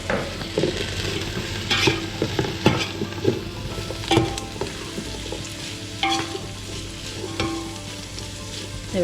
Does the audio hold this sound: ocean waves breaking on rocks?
no